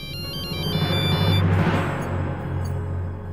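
A phone ringtone plays for an incoming call in a domestic TV drama, a bright repeating electronic melody that is loud and close, heard alone without talk.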